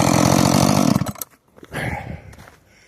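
A rebuilt Husqvarna 562 chainsaw roars at high revs up close, then cuts off abruptly, followed by a brief lower sputter of the engine that fades away.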